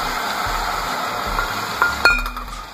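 A spoon stirs flour paste into simmering mutton kunna. Close, steady sizzling bubbles throughout, with a couple of sharp metallic spoon clinks near the end.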